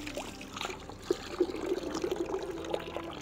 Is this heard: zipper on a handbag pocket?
no